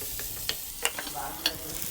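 Chopped green chillies sizzle in a hot pan for an egg snack filling, a soft steady frying hiss broken by a few sharp stirring clicks and scrapes, close and fairly quiet, with no talking.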